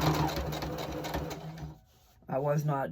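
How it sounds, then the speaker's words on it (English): Sewing machine running close up while back stitching a lock stitch, a fast even whirring chatter that pauses briefly and resumes, with someone talking over it near the end. "I decided to start back stitching"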